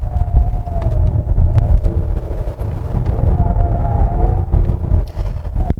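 A 2023 Hyundai Palisade with the 3.8 engine and front-wheel drive, shifted by paddle on a winding mountain road. The engine drone rises and falls under loud, steady road and wind rumble inside the cabin.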